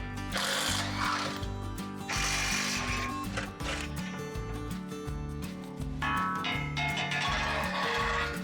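Ratchet wrench removing 18mm skid plate bolts on a Jeep Wrangler 392 Rubicon, steady loud mechanical clicking and grinding with a rhythmic low pulse throughout, close up with no talking.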